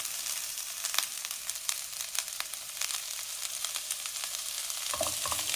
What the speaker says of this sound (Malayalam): ഏകദേശം ഒരു 4 മിനിറ്റ് എങ്കിലും ഇത് മീഡിയം ഫ്ലെയിമിലിട്ടൊന്ന് വറുത്തെടുക്കണം.